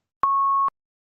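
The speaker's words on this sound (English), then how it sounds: "There was a beep. I pressed the beep button." A single loud, pure censor bleep pressed on a button during a comedy panel show, one steady tone lasting about half a second, then silence.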